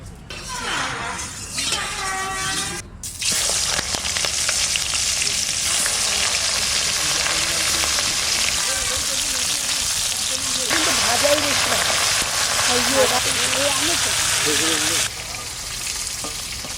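Fish frying in oil in a kadai, a steady loud sizzle running throughout with brief bursts of speech near the start and scattered voices later.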